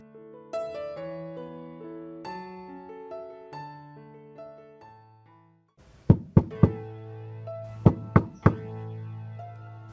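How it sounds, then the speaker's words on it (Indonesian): A door is knocked on in two clusters of sharp, hollow raps near the end, loud and close, set over a sustained, tonal music background. "Setelah mengetuk pintu 2 kali"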